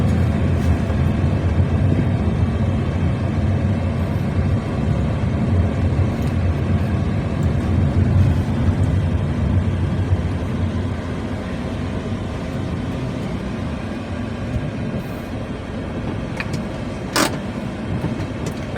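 A car engine hums steadily as the gas pedal is pressed slowly during a driving lesson. The low rumble stays even and close, eases slightly toward the end and is briefly marked by a click.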